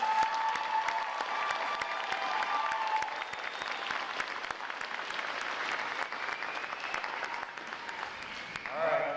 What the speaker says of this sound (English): How about a round of applause for their performance today, folks?